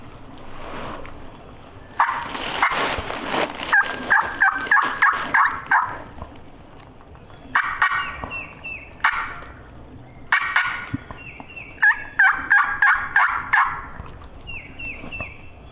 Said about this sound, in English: Bird's last gobble, it sounded like they were to the right and down the hill a little bit.